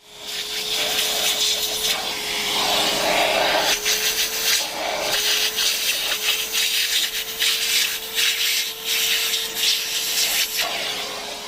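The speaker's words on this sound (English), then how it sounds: "switch to a Crevice Tool used alongside a soft detailing brush to access any tight or awkward parts" A vacuum crevice tool paired with a soft detailing brush works over leather, a steady close suction hum under continuous rhythmic brushing and rubbing strokes.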